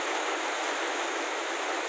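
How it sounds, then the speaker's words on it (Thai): Steady rain falling outdoors, a constant even hiss of drops with no breaks, moderately loud and close, with no voices. "น้องใบบุญก็แอบไปเล่นน้ำฝนนะคะ"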